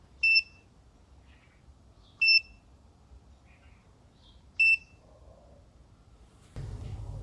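A multimeter in continuity mode tests the micro switches of a Ryobi RHT500 hedge trimmer, giving three short, clear beeps about two seconds apart, then a rustling handling noise at the end, quiet room, no talk.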